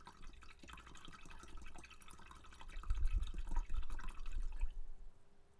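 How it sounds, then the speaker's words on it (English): A paint brush swished and rinsed in a container of water, with soft sloshing and dripping close up that grows busier midway, then fades. "let's wash the brush off"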